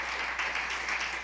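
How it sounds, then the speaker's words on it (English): Church congregation clapping hands in praise during a sermon, a steady wash of many hands clapping at moderate volume, somewhat distant, with no voices over it. "Come on, clap your hand and give God a praise."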